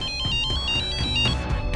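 A telephone rings with an incoming call, a bright electronic ringtone repeating in quick pulses, loud and close with no talking over it.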